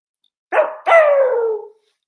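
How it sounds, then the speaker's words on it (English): A dog at home gives two close, loud barks, a short yip followed by a longer falling howl-like bark, then silence. "Does Lunar bark? Absolutely"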